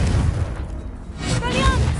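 A Confringo spell blast in Hogwarts Legacy, a deep rumbling boom that swells and fades over a couple of seconds, with a bright magical shimmer ringing out near the end.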